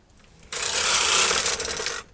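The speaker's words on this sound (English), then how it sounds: "Place your carriage back into end position so you can knit all your needles." A knitting machine carriage slides across the needle bed in one continuous pass lasting about a second and a half, producing a loud, steady whirring clatter that stops abruptly at the end of its travel.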